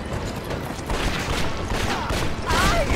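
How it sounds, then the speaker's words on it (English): Cannons firing in the Red Dead Revolver video game, a dense, loud barrage of booming blasts and crackling gunfire rolling on without pause over about three seconds. "Those are cannons!"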